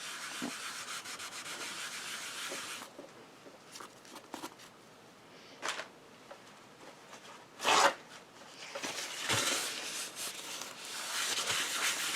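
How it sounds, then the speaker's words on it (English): An eraser rubs back and forth over an embossed paper card to lift green ink, a close, dry scrubbing with short pauses and one brief sharper scrape. "I will see if I can get a little of that green off with the eraser"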